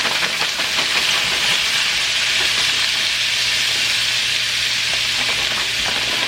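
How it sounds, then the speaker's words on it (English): Frozen stir fry vegetables sizzle loudly in a hot pan with butter, a steady dense crackling hiss that runs unbroken from start to finish with no voices. "I'm going to add my vegetables, my frozen vegetables."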